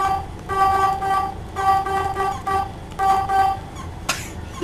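A city bus horn in the OMSI 2 driving simulator honks in three or four sustained blasts of about a second each, loud and close, separated by short gaps over engine rumble.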